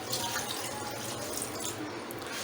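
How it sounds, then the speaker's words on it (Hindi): Water is poured into a blender for making a yogurt chutney, a soft, steady running and splashing sound with no talking, fairly quiet throughout. "ये मैंने 1 कप पानी डाला"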